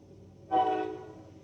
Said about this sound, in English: we're going to pause. There's a train.